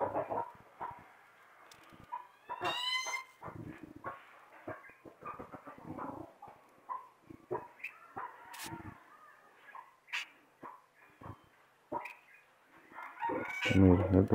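Chickens clucking in a farmyard with a rooster crowing, a dog barking, and scattered clucks and short calls throughout, plus a louder crow near the end.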